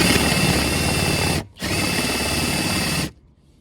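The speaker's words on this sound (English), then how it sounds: "drill my holes here." A power drill whirs loudly in two steady bursts, drilling holes in wood of a historic double-hung window, with a brief pause between, then stops.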